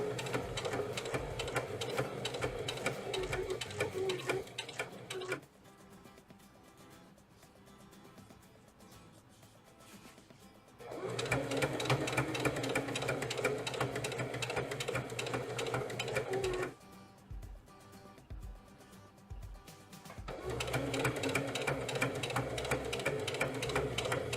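A sewing machine runs in three long bursts along the side seam of a Betty dress, each steady whirring run of about five seconds broken by quiet pauses while the fabric is lined up.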